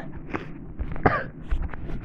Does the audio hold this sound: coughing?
yes